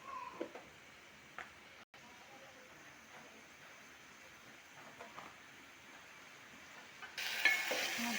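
Green chillies fry in oil with salt added as they are stirred, giving a soft, steady sizzle with occasional scraping knocks, then a louder burst of hissing near the end.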